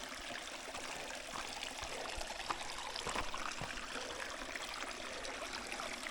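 A small stream of water trickles along a damp trail in Asturias, a soft, continuous babbling with light splashy detail, fairly faint and close, with no voices.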